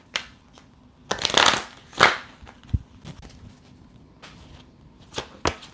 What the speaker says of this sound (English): we're gonna shuffle some more then